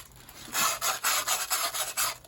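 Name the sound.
sandpaper sanding the inner edge of a wooden goblet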